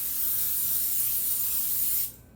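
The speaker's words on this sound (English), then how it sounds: "we're going to take our handy dandy cooking spray and spray a 9x13" Cooking spray hisses from a can into a 9x13 baking dish in one continuous close burst of about two seconds, then cuts off abruptly.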